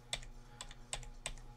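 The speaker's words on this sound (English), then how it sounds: "you guys are gonna be hearing the keyboard a lot" Computer keyboard keys are pressed in four quick, separate clicks spaced evenly apart, quiet and close, with no one talking.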